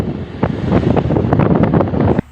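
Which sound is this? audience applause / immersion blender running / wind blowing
wind blowing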